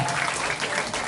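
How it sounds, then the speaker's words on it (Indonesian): An audience at a religious lecture on the noble character of the Prophet Muhammad claps for Vijay, a brief burst of dense, steady applause heard at moderate distance. "Tepuk tangan untuk Vijay sekali lagi"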